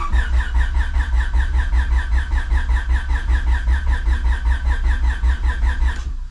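An LSVTEC-swapped Honda Civic EG engine cranks over with a fast rhythmic starter chug, steady and loud for about six seconds before stopping.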